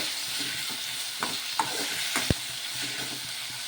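Chopped tomatoes, green chilies and onion sizzle steadily in a pan while being cooked soft, a continuous close fry with a few light clinks of a stirring spoon and no talking.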